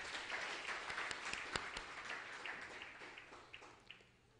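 A church congregation at a praise service applauds together, a dense patter of many hands with a few sharper claps standing out, fairly faint and steady before tapering off at the end.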